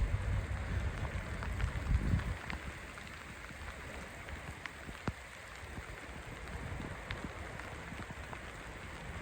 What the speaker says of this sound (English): Although it's raining, it's still beautiful.